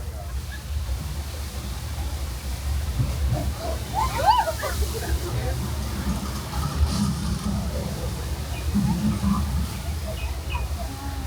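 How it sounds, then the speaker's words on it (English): Flash flood water effect on the Universal Studios Hollywood tram ride: a steady low rushing and sloshing of water, fairly close and continuous, with faint voices mixed in. "Thousands of gallons of recycled water draining."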